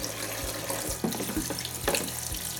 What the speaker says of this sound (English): I'm going to use some hot water.